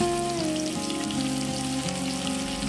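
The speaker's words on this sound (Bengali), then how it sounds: "আমি এর মধ্যে দিয়ে দেবো প্রায় 4খানা মিডিয়াম সাইজের স্লাইস করে কুচনো পেঁয়াজ" Four medium sliced onions fry in spiced oil for paneer do pyaza, giving a loud, dense, continuous sizzle like steady rain, heard close up under a faint background drone, without speech.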